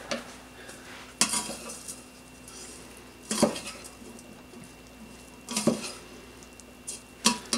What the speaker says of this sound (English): I'm gonna stir this up